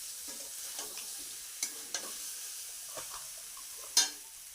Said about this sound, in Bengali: দেখুন ভালো করে এইভাবে নেড়ে নেড়ে